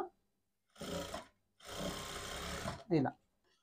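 A sewing machine top-stitches a folded blouse piece in two close, even mechanical runs, the second longer, separated by a short pause and followed by a brief tonal squeak.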